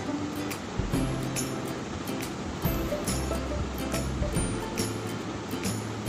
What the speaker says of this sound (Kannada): ಆಜಿ ಕಪ್ಪು ನೀರು ಪಾಡೊಂದುಂಡು